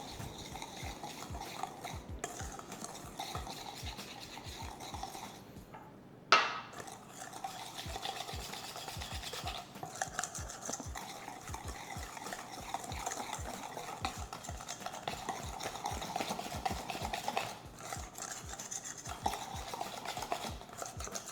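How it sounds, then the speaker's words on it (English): Peach cobbler batter is stirred in a bowl with a utensil, giving a steady run of close, rhythmic scraping clicks and taps, with one sharp knock partway through. "we're gonna mix it."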